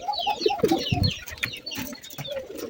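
Male pigeons coo close by in repeated soft, throaty phrases, with brief wing flutters and faint chirps mixed in.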